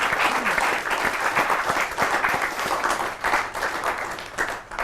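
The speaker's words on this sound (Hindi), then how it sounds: "एक बार जोरदार तालियों से स्वागत करता हूं मैं आपके बीच में" A dense, steady round of audience applause greets a poet at a Holi poetry gathering, filling the whole stretch with continuous clapping.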